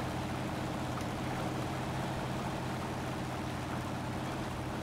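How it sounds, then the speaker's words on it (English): Rushing river rapids and a waterfall in the Spintires off-road game give a steady, loud, broadband roar of churning water with a low hum beneath, continuous and unbroken throughout. "Well, that is rapid. That's a pretty good looking waterfall there."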